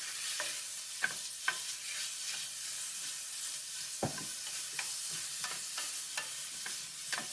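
Wagyu beef sears lightly in a hot pan for bibimbap, a soft continuous sizzle broken by scattered sharp crackles and spits, close and fairly quiet, with no voices.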